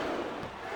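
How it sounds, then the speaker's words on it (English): A video game wrestling crowd from WWE SmackDown vs Raw 2007 roars in a steady, dense wash of cheering that fills the whole brief moment. "Listen to the crowd."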